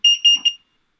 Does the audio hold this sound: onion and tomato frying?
no